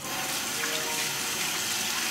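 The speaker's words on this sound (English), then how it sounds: "wash your hands and dry your hands first before going into the breadcrumbs" Tap water runs steadily from a kitchen faucet as hands are washed while breading veal cordon bleu, a continuous close hiss and splash with no pauses or talk.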